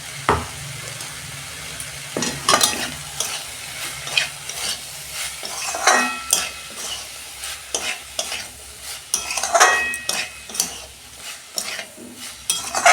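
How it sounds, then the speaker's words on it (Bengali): Curry being sautéed in a pan with a little sugar, a spoon scraping and stirring in repeated strokes over a steady low sizzle, with occasional clinks of utensil on metal, close and fairly loud. "ভালো করে আর 2 মিনিট কষতে নেব"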